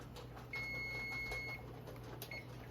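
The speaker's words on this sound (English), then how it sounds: "so that's our timer" A kitchen timer beeps while lamb chops cook in a brown stew: one sustained electronic beep, then a brief second one, faint over a steady low kitchen hum.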